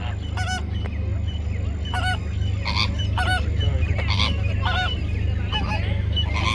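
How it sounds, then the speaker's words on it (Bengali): Geese in a park honk one after another in a series of clear, evenly spaced calls over a steady low hum of background noise. "কেন একটা ডাকতেছে কোমো কোমো করে"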